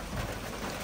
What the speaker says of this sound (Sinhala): වහිනව හැබැයි යන්නේ